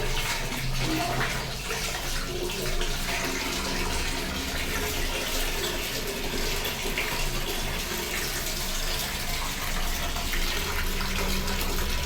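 A bathroom tap runs in a steady, continuous stream where a small child is being bathed, the water pouring evenly and fairly close throughout with no talk over it.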